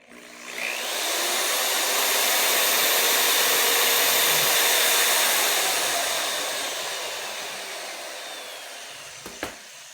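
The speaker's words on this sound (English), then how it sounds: "When we fire up the drill, we're spinning the drive cable, and that should spin this gear" Electric drill spinning a drive cable and gears in a Porsche Cabriolet convertible top mechanism, a loud steady whirring that ramps up quickly, holds for several seconds, then winds down and ends with a couple of small clicks.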